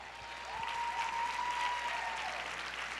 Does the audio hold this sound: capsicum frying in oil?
no